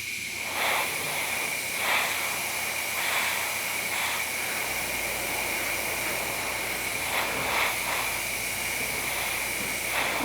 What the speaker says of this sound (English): Just my airbrush. I don't want to put a lot in.